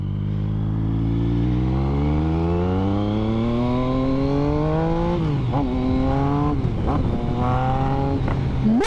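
A friend's motorcycle revs hard and accelerates up close, its loud engine tone climbing steadily before dropping and surging again in several sharp throttle blips.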